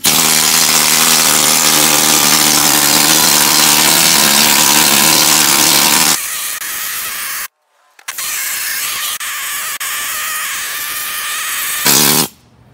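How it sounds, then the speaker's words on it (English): A needle scaler chatters loudly and continuously against a steel John Deere 42-inch mower deck, knocking off rust scale, then cuts out briefly and restarts for another long run before stopping. "I'm using a needler. Takes the scale, rust scale off."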